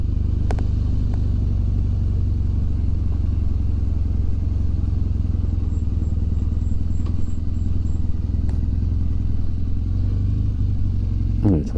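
A motorcycle nicknamed Bonnie idles with a steady, loud low rumble as it is moved into a parking spot, with occasional clicks and knocks on top.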